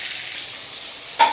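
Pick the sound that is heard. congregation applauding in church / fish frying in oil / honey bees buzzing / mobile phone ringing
fish frying in oil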